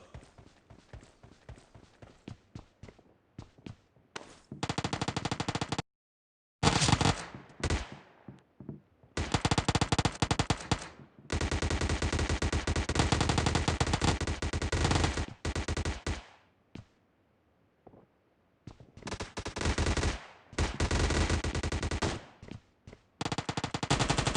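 Bursts of rapid automatic gunfire from PUBG Mobile come in loud, dense volleys separated by short silent gaps, with faint quieter stretches between them.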